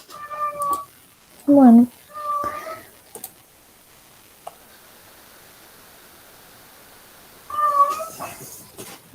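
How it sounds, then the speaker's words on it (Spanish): An elderly cat meows in a few short calls, close by, between stretches of people talking in Spanish during an indoor class meeting. "es mi gata, está muy vieja y se pierde por ahí"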